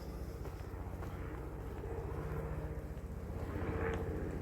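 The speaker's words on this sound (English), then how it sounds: "There's a helicopter above." A helicopter passes overhead, its low rhythmic rotor thump steady and fairly faint at first, then growing slightly louder toward the end.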